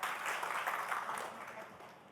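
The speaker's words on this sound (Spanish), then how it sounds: "necesito que aplaudan conmigo rápidamente" A church congregation claps together in a short, steady burst of applause that fills the room at a moderate level, dense and even, fading slightly toward the end with no distinct voices over it.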